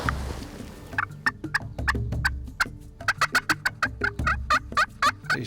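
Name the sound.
wild turkey gobbling in the distance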